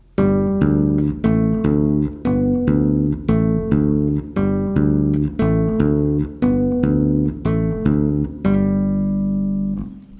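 A bass guitar plays a repeating tapped pattern of melody notes over a low bass line, steady and rhythmic, up close with no voices, ending on a ringing note.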